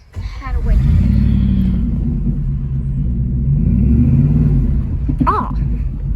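A scrap hauler truck's engine rumbles loud and close as a kid gives it gas, holding a steady low roar with slight swells in revs, while voices talk over it.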